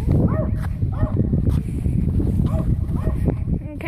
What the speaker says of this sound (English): Oh, and there's some more doggies.